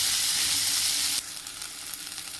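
Spring onion leaves frying in hot oil until golden brown, a steady broadband sizzle that drops to a softer crackling hiss halfway through, close and continuous with no talk.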